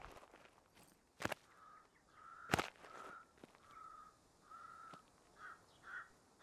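A crow caws in a military shooter game on a Belarusian map, a string of raspy calls spaced across the clip, with two sharp footstep-like thuds early on; no voices.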